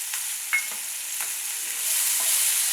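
Chillies and chopped tomatoes sautéing in a pan as they are stirred together: steady frying hiss with several soft scrapes and taps of the spoon, the sizzle growing a little brighter near the end. Nobody speaks.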